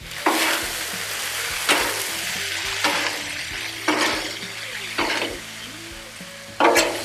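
Drunken chicken noodles with fish-based sauce sizzle steadily on a Blackstone griddle while a spatula stirs and tosses them, giving a bright scraping burst roughly every second over the continuous close frying hiss.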